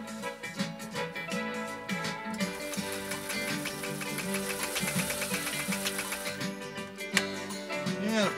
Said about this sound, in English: And here we go, our final stitch on Mary Rowan's PFAFF 339.